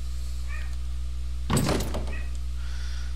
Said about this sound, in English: The door is nailed shut.